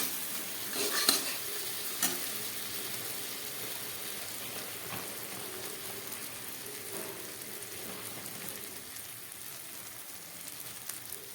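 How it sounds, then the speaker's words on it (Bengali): Potol (pointed gourd) curry sautéing slowly in a pan over a very low gas flame, a soft steady sizzle with occasional stirring taps, fairly quiet and close, no voices. "গ্যাসটা একদম কম করে কষাতে হবে।"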